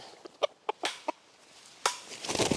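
A chicken in an outdoor forest camp gives a few short, sharp clucks in quick succession, then a louder burst of wing flapping near the end, close to the microphone.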